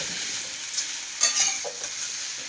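Ingredients for a rui fish and cauliflower cumin curry fry in a pan with a soft, steady sizzle, and a couple of brief stirring scrapes rise midway.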